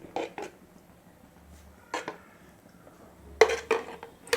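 A metal cooking pan is set down on a stove with a few separate clanks and clinks, quiet and close, spaced out over a few seconds against a faint background.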